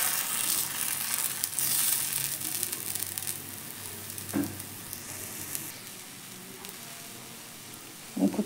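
Bottle gourd pitha batter fries on a hot pan with a steady, soft sizzle throughout, plus a brief clatter near the end.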